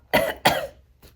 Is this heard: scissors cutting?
no